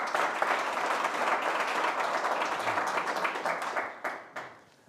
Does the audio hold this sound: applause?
yes